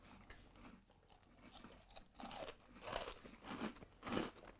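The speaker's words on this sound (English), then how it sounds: "I do know that the churros are very, very, very, very, very crunchy" Close, faint crunching of churro-style cinnamon breakfast cereal being chewed, with irregular bursts of crisp bites growing louder toward the end, no talking.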